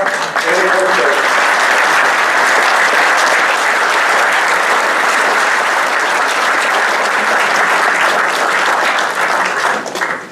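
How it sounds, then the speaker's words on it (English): Long, sustained applause from a tech conference audience after a talk, with dense, steady clapping at a loud level throughout that tapers off only at the very end. "thank you for such a long applause"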